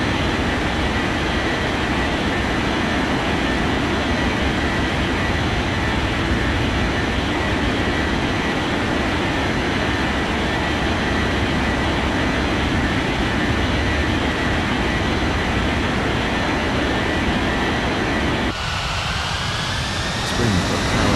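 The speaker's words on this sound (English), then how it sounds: "Cleared for takeoff runway 14." An aircraft takes off in an air traffic control video game with a loud, continuous broadband engine roar that holds steady for about twenty seconds, then shifts in tone near the end.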